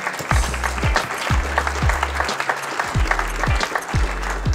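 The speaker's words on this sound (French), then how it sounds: "qu'on peut applaudir" Loud, continuous clapping from an awards-ceremony audience, dense and steady throughout, with no voices standing out.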